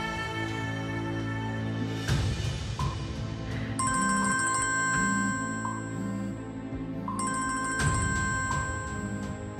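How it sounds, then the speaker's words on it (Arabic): A telephone rings with a repeating electronic melody that fills the whole stretch, its tones steady and loud over a busy musical background, with no talk. "رد على التليفون، رد على التليفون."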